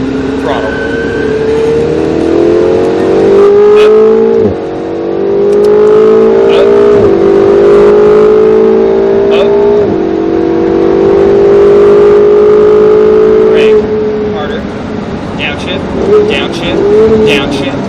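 Race car engine at Speed Vegas revving under throttle with rising harmonic sweeps and shifts, loud and continuous while an instructor's voice talks over it.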